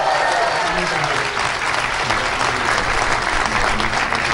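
Loud, sustained applause from a cricket crowd in Sydney for commentator and former Indian captain Sourav Ganguly, steady dense clapping filling the whole stretch with a faint murmur of voices underneath.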